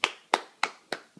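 A child claps hands four times in a steady rhythm, close and crisp, with a softer fifth clap trailing at the end; no talking.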